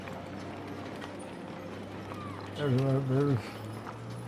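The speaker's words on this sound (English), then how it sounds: "Oh, look at the horse and buggy." Horse and buggy hooves clip-clopping along a rodeo parade route, light steady clopping in the background under outdoor ambience, with a person speaking briefly midway.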